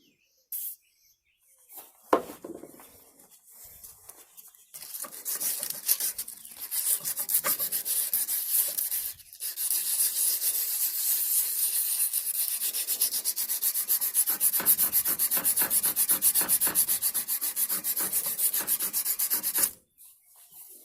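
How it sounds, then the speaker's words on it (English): Sandpaper with WD-40 worked over a 3 1/2 inch Agri Supply bench vise during a rebuild, a steady, loud, rapid scrubbing rasp that runs continuously for most of the stretch before stopping abruptly near the end. "we're going to go ahead and hit it with some sandpaper with some WD-40, and hit it with some Scotch-Brite"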